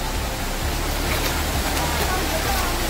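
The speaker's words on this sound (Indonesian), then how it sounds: "ini namanya curug apa" Curug Cempaka in Cidahu, Sukabumi, a waterfall, gives off a constant loud broadband roar of falling water that fills the whole stretch without letting up.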